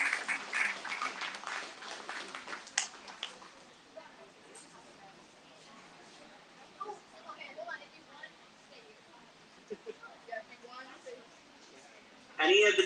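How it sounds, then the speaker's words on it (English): Audience applause at a 4-H alumni dinner for table contest participants: a dense patter of clapping over the first few seconds, then fading to scattered claps and room murmur, with a brief louder burst at the end. "Let's give another round of applause for all of our table contest participants."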